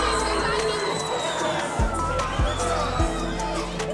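A crowd at a fight cheers and murmurs in a large venue, a steady roar of voices with a commentator talking over it.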